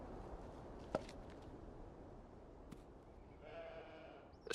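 A sheep gives a short bleat near the end of a quiet scene in the game Beyond: Two Souls, following faint background ambience and a couple of soft knocks or footsteps.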